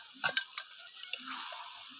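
Ground spinach paste goes into a pan of frying chicken for a green chicken curry: a few quick spoon clinks and scrapes over a faint, low sizzle.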